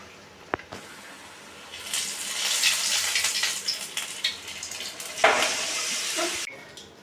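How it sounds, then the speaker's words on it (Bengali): Cabbage pieces fry in a pan with a steady, moderate sizzle that swells and settles, punctuated by a few sharp clicks near the start and a brief flare toward the end, with no voices. "কি সুন্দর ভাজা হচ্ছে।"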